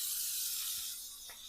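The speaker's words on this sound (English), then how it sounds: "I'm going to spray it down with the cooking spray" Cooking spray hisses from a can onto a parchment-lined cookie sheet, a steady close spray fading slightly toward the end.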